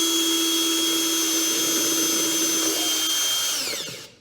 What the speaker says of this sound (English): I'm gonna drill a hole in the top